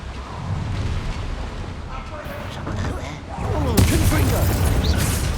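A Confringo fire spell bursts in a Hogwarts Legacy battle, a rumbling explosion swelling past a sharp crack, over a continuous roaring bed with indistinct voices.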